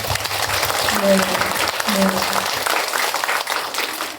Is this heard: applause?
yes